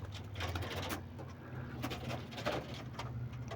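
Pigeons cooing on a rooftop, soft repeated low coos rising and falling in a steady rhythm, with faint rustling and a few light taps around them, fairly close and alone without talk.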